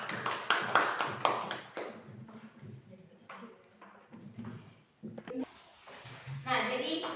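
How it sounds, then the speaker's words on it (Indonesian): Brief scattered clapping from a classroom audience for a student presenter comes first, then fades as a teacher's voice and room noise take over. "coba kita tepuk tangan dulu untuk Panji"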